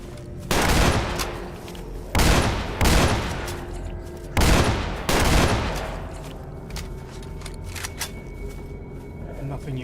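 Bursts of gunfire in the shooter game Stalker Anomaly ring out in several loud, sharp volleys over the first half, then fade into quieter ambient game noise.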